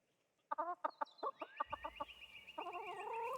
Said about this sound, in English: I love that chicken back here. Look at that chicken.